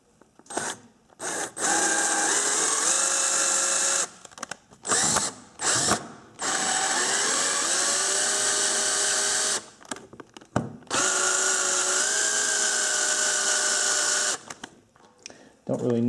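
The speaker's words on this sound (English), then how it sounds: "I'm going to put that specialty tool into my cordless drill and then slowly spin this valve" A cordless drill with a valve-lapping tool spins a valve from a Honda Trail 90 motorcycle, sounding in several whining bursts of a few seconds each with pitch shifts and short pauses between them.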